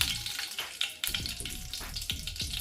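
Cloves, cinnamon stick and bay leaf fry in hot oil, giving a soft crackling sizzle broken by repeated scraping strokes of a spoon against the pan, fairly close and without talk.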